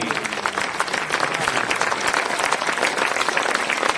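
A village crowd applauding steadily at a welcome celebration, dense clapping that holds an even loudness throughout, with no clear pauses.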